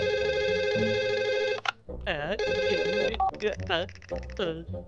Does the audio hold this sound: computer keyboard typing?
no